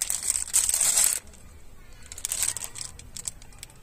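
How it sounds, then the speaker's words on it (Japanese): A plastic bag crinkles loudly and close for about a second while being opened to unpack a goshuin book, followed by quieter rustling. "御朱印帳、 これ開封していきたいと思います。"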